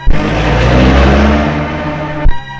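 A car engine revs loudly and steadily as the vehicle pulls away, then cuts off abruptly near the end.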